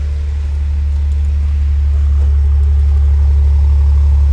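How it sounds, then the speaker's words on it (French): A BMW M135i all-wheel-drive with a Stage 1 tune idles, its exhaust giving a deep, steady low rumble, close and continuous, with no talking over it. "Je vais vous faire écouter le bruit à la sortie de pot d'échappement."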